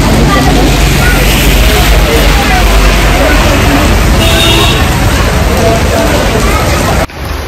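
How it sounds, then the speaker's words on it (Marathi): Rain pours steadily with a loud, continuous wash of noise, a faint murmur of voices mixed in, before the sound cuts out abruptly near the end. "इतका पाऊस झाला आहे"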